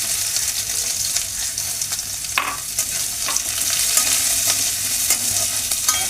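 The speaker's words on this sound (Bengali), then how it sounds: "পেঁয়াজটা একটু হালকা লাল করে ভেজে নিয়ে" Chopped onions fry in a pan, giving a steady broadband sizzle with a few sharp scraping stir strokes, close and moderately loud, with no talking, while cooking rice with paneer.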